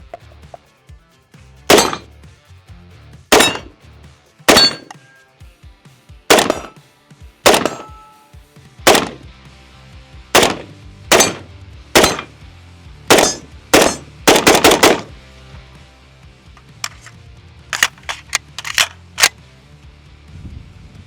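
A Stoner 63 light machine gun fires loud, close single shots at a steady pace, broken by one quick rapid burst midway, with no talking.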